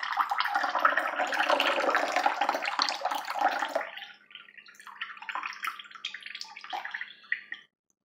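Tap water runs and splashes steadily for about four seconds, fairly close and loud, then breaks into softer intermittent splashes and drips as the flow tapers off, with no talking over it.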